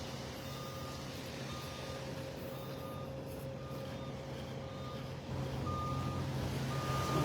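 A work machine in a parking lot sounds a regular reversing beep at a distance, repeating evenly over a broad outdoor hum and rumble that gets slightly louder toward the end.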